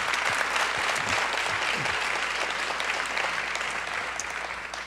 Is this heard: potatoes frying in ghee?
no